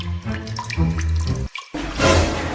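Tap water runs steadily into a basin as someone fills up to drink, a splashing rush that briefly stops and then resumes louder and hissier.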